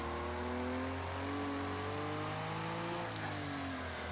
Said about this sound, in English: Engine and exhaust sounds. Most of the cars have great engine sounds. This one in the interior sounds good.